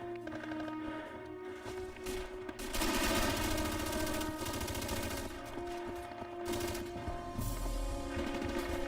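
Sustained machine gun fire and scattered gunshots in the World War II shooter game Red Orchestra, a dense continuous rattle over a steady droning background, moderately loud with no clear voices.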